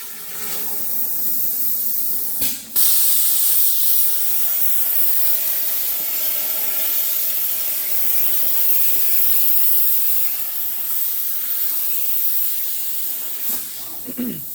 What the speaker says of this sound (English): The plasma table's running.